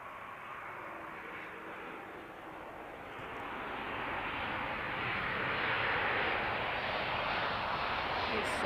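SAS airliner jet passing at Manchester Airport, a broad engine roar that starts moderate and swells louder toward the end, steady with no pauses.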